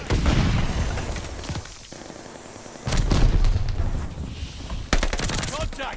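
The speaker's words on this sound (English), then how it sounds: "Incoming grenade! Throwing grenade! Throwing stun grenade!" Grenade blasts and bursts of gunfire rip through a Call of Duty Vanguard match, loud, close, heavy booms landing near the start, around three seconds and near five seconds, with rattling shots packed in between.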